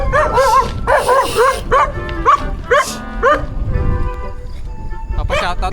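Dog barking at a roadside during a solo bikepacking ride through Infanta and Real, Quezon, a string of close, loud yaps and barks with background noise beneath.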